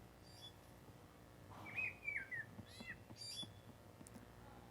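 Bird calls from a birds example audio clip played back in Unity: a few quiet chirps and a brief rising and falling whistle, faint and scattered over a low background hum.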